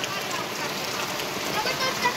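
Rain falls steadily on a farm orchard during a heavy shower, a dense, even hiss of drops filling the whole stretch at moderate loudness.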